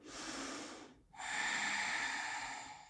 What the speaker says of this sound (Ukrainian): Заключний глибокий вдих